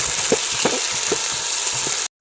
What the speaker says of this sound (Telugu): అల్లం తెల్లగడ్డ పేస్టు పచ్చి వాసన పోయేంత వరకు కలుపుకుందాం